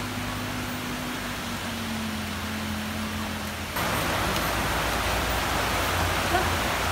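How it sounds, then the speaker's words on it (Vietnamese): Heavy rain pours without a break onto a flooded street in Vietnam, a dense, loud hiss that gets even stronger partway through. A low hum sits under the first half. "Mưa rơi ào ào và rất lâu, làm nước không thoát ra kịp, khiến khúc đường này bị nước dâng lên cao"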